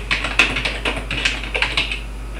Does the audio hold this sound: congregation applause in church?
no